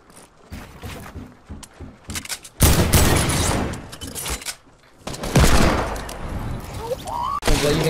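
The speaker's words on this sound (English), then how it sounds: "They're using hand cannons to break walls." Heavy gunfire tears through walls in Fortnite: dense bursts of loud, crackling shots and booming impacts, with stretches of rapid continuous fire between quieter gaps and some debris clatter.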